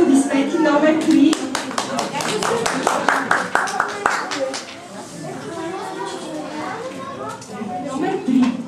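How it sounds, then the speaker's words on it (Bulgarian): A class of children claps together in a lively burst, the dense applause peaking early then thinning into chatter and young voices talking over one another in the room. "Точно така, аплодисменти."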